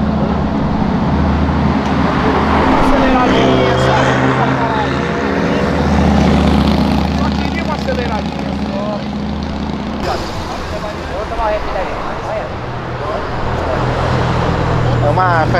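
A Ferrari Dino driving along a city avenue, a loud, steady engine roar amid passing traffic noise, with people talking over it.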